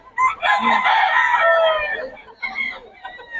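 A Sure Brown Red stag gamecock crows loudly and close by with one long, full cock-a-doodle-doo and a shorter trailing call after it, while people at a busy poultry market talk faintly underneath.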